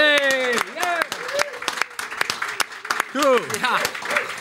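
A live studio audience claps for Wim Hof in scattered, uneven bursts, while someone speaks loudly over the applause.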